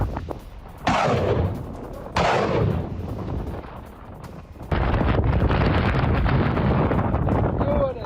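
Rocket attacks and gunfire in the Sudan conflict, captured in news footage, come as sudden loud booming blasts followed by sustained rumbling, rattling bursts over heavy wind buffeting the microphone.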